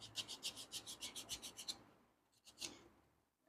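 A nail buffer rubs across cured gel polish on a fingernail to take off the top coat's shine, making a quick run of even, rhythmic rasping strokes that stop, then return as two brief, faint scrubs.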